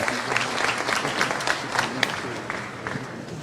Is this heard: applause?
yes